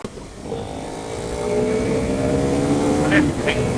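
A KTM Duke 390 motorcycle engine revs up close and shifts gear on the road, a steady droning growl whose pitch climbs and then changes.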